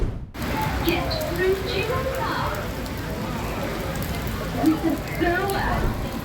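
Steady rain at Niagara Falls, a dense continuous patter of drops on surfaces close by, with people talking over it.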